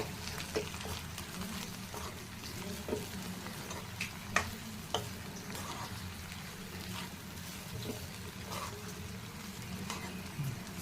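Aloo thotakura fry of potato and amaranth leaves dusted with roasted gram powder being stirred in a pan, a soft continuous sizzle punctuated by periodic spatula scrapes and taps.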